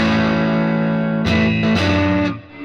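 Electric guitar played loud through a Fender '68 Custom Vibro Champ Reverb amp pushed into light breakup, sustained chords with a couple of sharp new strums near the end.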